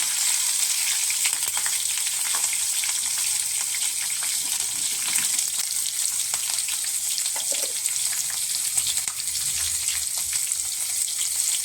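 Garlic and green chilies fry in hot oil with cumin and mustard seeds, giving a loud, close, steady sizzle and crackle that runs unbroken, with faint stirring and no voices.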